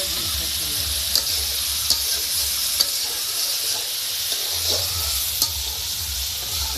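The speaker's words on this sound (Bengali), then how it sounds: "আজকে রান্না হচ্ছে খসলা মাছ" River fish (khoshla) fries in a pan in a home kitchen, with a loud, steady sizzle and occasional stirring scrapes. No voices are heard.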